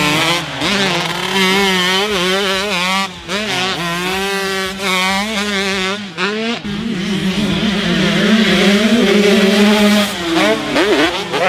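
A KTM 150SX two-stroke motocross bike screams nearby, revving hard through rising and falling pitch sweeps with brief throttle cuts between loud, buzzing bursts.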